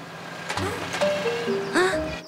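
Jingly tune blaring from Dylan, a cartoon rubbish truck with a broken trunk spilling litter, a bright melodic line of steady notes over low rumble with a brief honk-like burst near the end.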